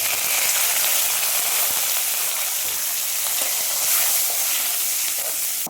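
Curry leaves and whole spices fry in hot oil for a chicken gravy, giving a loud, close, unbroken sizzling hiss that lasts the whole time.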